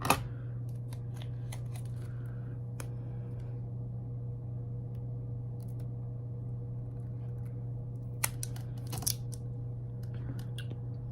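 Scissors cut through excess vinyl on transfer tape in a few sharp snips, some near the start and a cluster toward the end, over a steady low hum.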